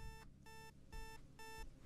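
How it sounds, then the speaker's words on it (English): Repeating electronic beeps from an alarm in the indie horror video game Night Doner, three or four evenly spaced bursts of a bright tone, fairly faint and with no talk over it. "Is that an alarm?"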